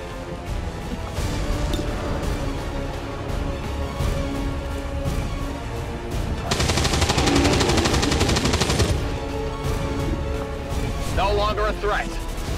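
Rapid machine gun bursts in a video game, steady rattling fire that swells louder midway, with game voices and effects mixed in.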